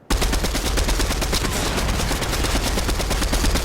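Rapid, continuous bursts of gunfire from a video game firefight fill the whole stretch, loud and dense with no pauses, more like sustained automatic fire than single rifle shots.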